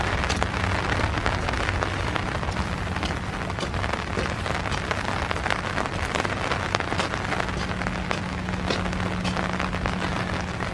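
Steady rain patters through a park on a foggy winter morning, a dense even hiss of drops striking leaves and ground, fairly close and unbroken throughout with no voices.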